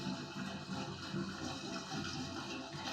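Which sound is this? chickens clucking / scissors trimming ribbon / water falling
water falling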